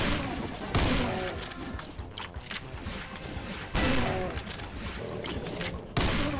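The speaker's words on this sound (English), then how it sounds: "Oh man, things are shaking. Oh, we're being attacked by cannon fire" Cannon fire in the video game The Golden Souls 3 lands as three heavy booming blasts roughly three seconds apart, over a dense, rumbling bed of battle noise and game music.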